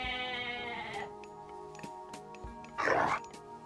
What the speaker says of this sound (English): We got some goats here